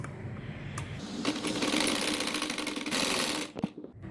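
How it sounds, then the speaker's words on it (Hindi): A sewing machine stitches along a folded sleeve while lengthening it, giving a close, steady rapid whirring and clatter for a few seconds before stopping. "फोल्ड करके आपने इस तरह इसके ऊपर सिलाई करना है"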